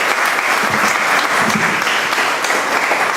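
Audience applause after a hospital plan presentation in Montserrat, a dense, steady clapping from a crowd filling the room at an even level throughout, with no voices standing out.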